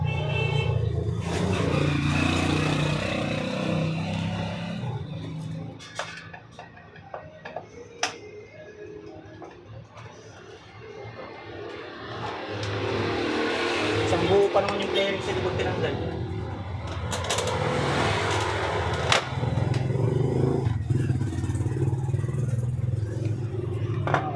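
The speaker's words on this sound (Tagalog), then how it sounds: "Kaya maririnig nyo talaga yung mga andar ng sasakyan." Roadside traffic passes a repair spot where a Euro R125 motorcycle is being worked on; vehicle engines swell and fade, with scattered clicks and clatter, and someone talks throughout.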